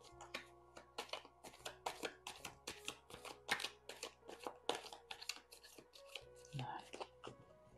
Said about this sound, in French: Je bats un peu les cartes.